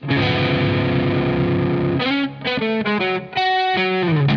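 A distorted electric guitar sustains a chord built from an extended G harmonic minor scale, then picks a quick run of single notes descending back toward the root, loud and close.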